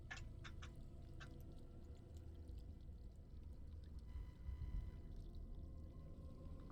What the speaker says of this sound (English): Dump the water out so I can get some new water.